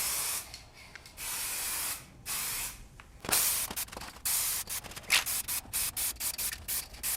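Beauty Tone gloss lacquer sprayed from an aerosol can onto a mid-century coffee table, a close, hissing series of bursts, some long and some short and rapid, with brief pauses between them.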